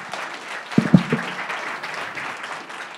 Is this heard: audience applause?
yes